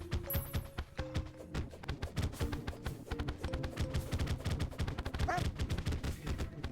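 A newly found weapon in Terraria with the Calamity mod fires in a dense rapid stream of sharp shots, layered over game music and effects, steady and loud throughout.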